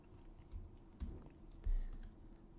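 Typing on a computer keyboard while writing Python code: a few soft, close keystrokes spaced about half a second apart, the last one a heavier thump, with low background hum and no talking.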